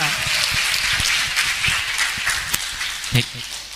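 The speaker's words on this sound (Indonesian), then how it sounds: "Kita kasih tepuk tangan dulu dong untuk Bobby yang akan menghibur kita" A campus audience applauds a stand-up comedian about to take the stage, a steady dense patter of clapping with a few sharper claps standing out and some voices mixed in.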